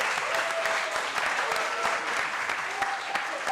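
An audience at a theatre dialogue event in Kenya applauds, with dense, sustained clapping from a crowd that carries evenly throughout and a voice faintly audible beneath it.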